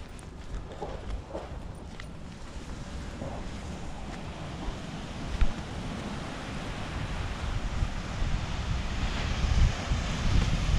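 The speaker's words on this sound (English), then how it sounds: "Let's check out the waves." Ocean waves and surf at Jupiter, Florida roll in as a steady, broadband roar, with wind buffeting the microphone throughout and the wash building slightly louder toward the end; no one speaks.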